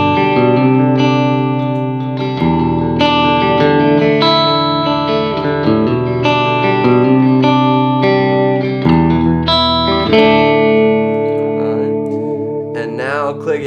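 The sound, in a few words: electric guitar through a Vox AC30 modeler with a little reverb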